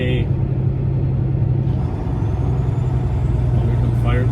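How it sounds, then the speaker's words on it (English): Heavy fire trucks rumble past on a road at night, a loud, steady low engine drone with a louder pass partway through, and a voice talks over it. "here come fire trucks"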